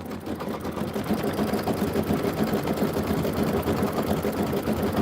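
A home sewing machine runs steadily, stitching and quilting a Kimberbell Heart & Home project on an embroidery-style setup, its rapid needle chatter continuous and close for several seconds with no talk.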